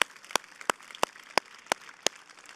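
Church congregation clapping in unison, six sharp even claps at a steady quick beat over a low hum of background noise, with no voices.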